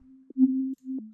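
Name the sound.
detuned sine wave synth bleep with reverb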